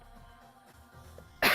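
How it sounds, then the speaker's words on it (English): A single sharp cough bursts out close into a microphone near the end, loud after a quiet stretch of room tone during a yoga session. "I apologize for coughing in a mic."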